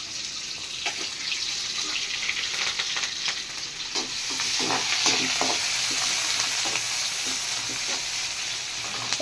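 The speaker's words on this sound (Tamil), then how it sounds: "இப்போ தாளிச்சுக்கிறோம் குழம்ப. கொஞ்சம் வெங்காயம்," Onion and curry leaves tempering in hot oil for a Chettinad-style kuzhambu, giving a steady close sizzle with scattered crackles and pops and occasional stirring scrapes, with no talk.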